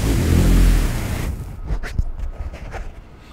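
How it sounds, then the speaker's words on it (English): Traffic from a busy road fills the air as a broad, loud rumble at first, then drops to a quieter wash with a few distant swishes and soft thumps of passing vehicles. "behind me is a very busy road"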